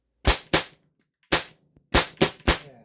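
A Byrna TCR CO2 marker powered by 37g or 8.6g CO2 cartridges fires six sharp, close pops in an uneven rhythm, spitting as the pressure chokes, with silence between shots.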